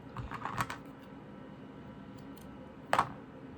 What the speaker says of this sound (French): Donc, on va la couper encore un tout petit bout.